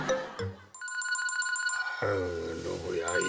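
A telephone rings at night in a home, its repeated electronic trill pulsing steadily for about a second before a voice speaks over the tail end.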